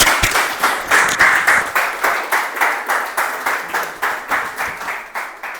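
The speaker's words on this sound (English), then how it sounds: "Let's give a huge round of applause." A small room of members at a Toastmasters club meeting claps together in a regular, rhythmic beat, each burst of hands rising and fading in quick succession, loud and close, with no speech.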